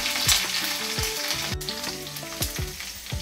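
Green chilies and curry leaves sizzle vigorously in hot oil, a dense, close crackling hiss broken by repeated scraping strokes of a stirring spoon and one sharp click.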